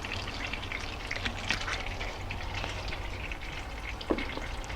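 Lemon chicken pieces frying in oil in a pan over medium-high heat, a steady close crackling sizzle with scattered sharper pops throughout.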